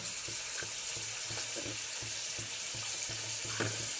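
Chopped onion frying in hot oil in a pan gives a steady close sizzle, with soft rhythmic stirring or scraping ticks throughout and no talking.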